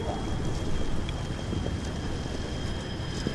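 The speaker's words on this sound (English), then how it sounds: "It's not grainy footage, it's the rain coming down." Steady rain pours outdoors in bad weather, a constant dense hiss at even loudness through the whole stretch, with no voices.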